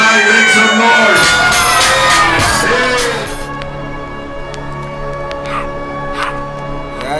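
A large crowd roars and cheers loudly for a few seconds, then fades to scattered whoops and shouts over lingering noise.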